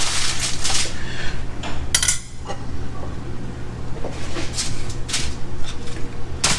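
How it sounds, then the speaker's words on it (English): Cooked lamb riblets are moved into a metal sheet pan, several bright clanks and scrapes of metal on metal over a steady low kitchen hum, with quieter shuffling between. "we're gonna transfer them into a sheet pan like this"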